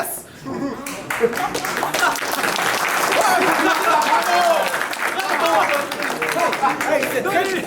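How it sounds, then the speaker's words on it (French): Applause from a rap battle audience, steady clapping across the whole stretch with crowd noise and some chatter and voices mixed in, moderately loud and dense without pause. "Hey, c'est très poli comme applaudissement"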